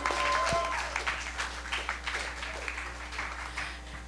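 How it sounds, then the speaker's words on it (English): A small audience at a live comedy show at PianoFight claps, loud at first and then thinning into scattered, fading claps over a low steady hum. "That deserves a round of applause."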